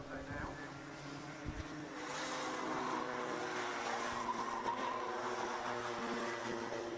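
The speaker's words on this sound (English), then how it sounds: "very, very soon, we will see when Max Swiderski comes through turn 11. He does so now" Micro Max racing karts at Genk buzz through a turn with a steady, fairly loud engine drone, sitting under a race commentator's voice.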